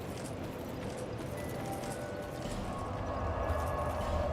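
Horse hooves clip-clopping in a video game, a steady muffled trot with a faint rhythmic patter under a constant low rumble of game ambience, moderately quiet and without talk.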